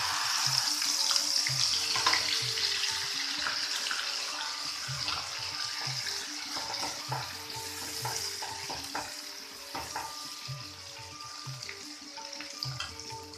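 A coconut, garlic and green chilli paste sizzles and fries steadily in a hot pan, with occasional stirring scrapes and soft clinks, loud and close throughout.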